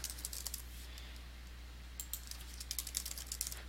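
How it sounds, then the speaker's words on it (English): Someone types on a computer keyboard, with light, fast clicking keystrokes in irregular clusters over a faint steady hum, close and quiet, with no talking. "So we'll type in index."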